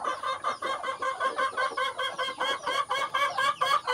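A hen with newly hatched black chicks clucks steadily and close by, giving a rapid, rhythmic series of short calls over about four seconds with no voices.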